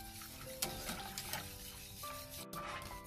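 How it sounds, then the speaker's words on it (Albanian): A spoon stirring Oreo cream in a pot over the heat, soft scraping with a faint sizzle and a few clinks, quiet and close with no talk. "Do përzihem vazhdimisht, derisa kremi të fiton trashësinë e dëshiruar."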